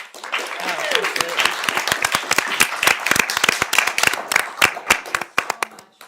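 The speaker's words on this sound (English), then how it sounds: "If we could please give a round of applause to our incredible advocates." An audience at a law school moot court competition final gives a steady round of applause, many hands clapping in dense sharp bursts with some voices underneath.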